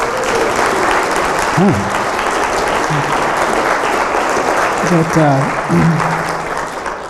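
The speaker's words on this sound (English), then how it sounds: "Jeff Steffen, I'm going to give you a round of applause." A room of listeners applauds a presenter, a sustained dense clapping bed throughout, with a voice speaking briefly over it at moments.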